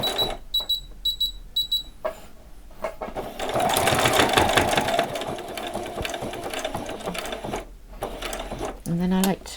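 Sewing machine stitching Velcro onto small doll jeans, starting in short bursts of rapid mechanical chatter, then running steadily for several seconds before stopping, with a brief final burst.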